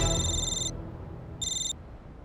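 A telephone rings in two short electronic bursts separated by a pause, bright and close against a low background hum, with no one speaking.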